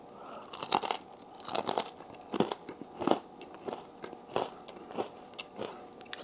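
Crisp crunching bites into air-fried fries served with steak, about eight distinct crunchy chews in a steady rhythm, close and fairly quiet with no talk.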